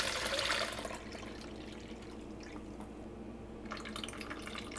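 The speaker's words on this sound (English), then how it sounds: "I'm just going to run it through the strainer with a paper towel just to get all the chunks" Homemade lactic acid bacteria (LAB) liquid drips through a kitchen strainer lined with a paper towel, giving a steady close trickle that runs on alone for several seconds.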